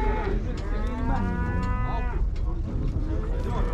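A cow at a cattle market in Uzynagash lets out one long, loud, close moo that fills the clip. The call stays steady and level to the end, and no one speaks over it.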